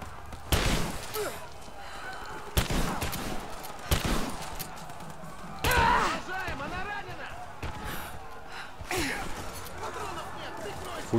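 Gunfire in Rise of the Tomb Raider, with sharp separate shots at irregular intervals over game ambience, while someone talks throughout.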